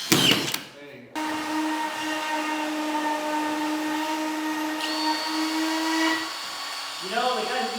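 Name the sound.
drill driving screws into 5/8 drywall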